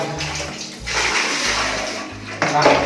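Water pours into a toilet bowl in a bathroom, a loud, steady close-up gush that surges in bursts, swelling again near the end, with faint talk underneath.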